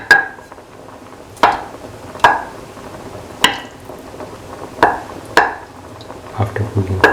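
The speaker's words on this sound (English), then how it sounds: "Now mash the potatoes." A potato masher knocks against a pan while cooked potatoes are mashed: about seven sharp, close metallic clanks at uneven intervals, each ringing off briefly, with softer scraping near the end.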